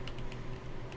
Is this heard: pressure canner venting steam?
no